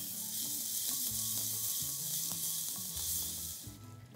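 Ginger garlic paste sizzles loudly in hot oil with whole spices such as cinnamon and cloves, a dense steady hiss with light stirring clatter that fades slightly near the end.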